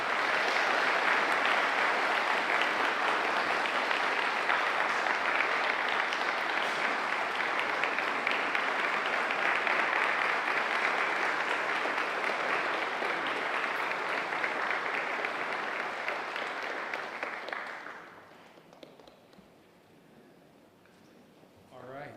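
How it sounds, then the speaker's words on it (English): Sustained, dense applause from an audience at an aviation maintenance technology graduation for the 2025 class, loud and steady for about seventeen seconds before tapering off into quieter room sound. "So let's give them a round of applause."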